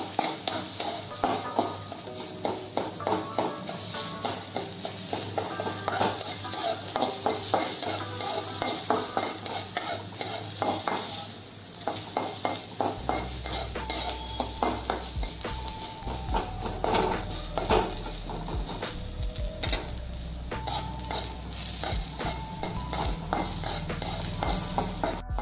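Onions frying in a pan while being stirred, with steady sizzling and repeated scraping and clinks of a utensil against the pan throughout.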